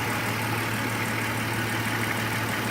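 The engine of a 2003 Dodge Grand Caravan idles steadily after a fuel injector replacement, a close, continuous low hum with no talk.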